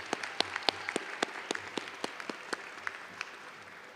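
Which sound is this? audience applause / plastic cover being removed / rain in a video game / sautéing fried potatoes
audience applause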